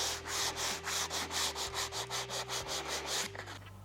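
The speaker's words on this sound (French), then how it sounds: "Un petit coup de ponçage." Wood on a Gibson SG guitar neck is hand sanded in a rhythmic series of about a dozen close, scratchy back-and-forth strokes that stop near the end.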